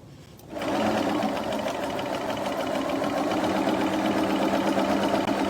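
A sewing machine starts up and runs steadily while stitching around a curved quilting ruler, a fast continuous mechanical whir, close and even, with no talking.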